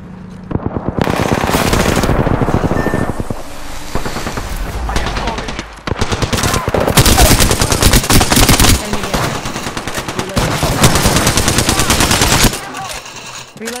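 Rapid automatic gunfire in the video game Apex Legends, loud and nearly continuous over long bursts, with short pauses between volleys and faint in-game callout voices underneath.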